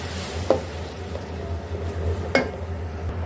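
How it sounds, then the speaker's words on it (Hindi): Chopped tomatoes stirred into ridge gourd in a hot pan, with two distinct scraping strokes of a spoon against the pan over a soft, steady sizzle. "अब इसमें हम टमाटर ऐड करेंगे और इसको हम अच्छे से मिक्स कर लेंगे।"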